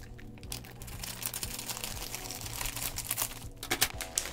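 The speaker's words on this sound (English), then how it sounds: "let me cut the top here" The top of a subscription box package being cut open up close, a run of crinkling, scraping and snipping taps of uneven rhythm with no talking.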